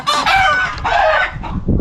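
Chickens cluck and squawk loudly nearby in a few agitated bursts, one call rising toward a crow, on a farm keeping rabbits.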